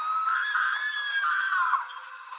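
A woman's long, loud, sustained scream as a horror story sound effect, one high wavering cry that lasts about two seconds before fading.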